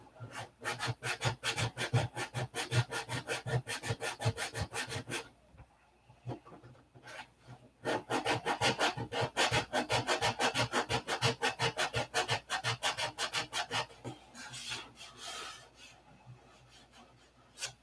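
Sandpaper rasps back and forth over fiberglass fillets in steady, rapid strokes, close and continuous, with a brief pause midway before the rhythmic scrubbing resumes and slowly eases off.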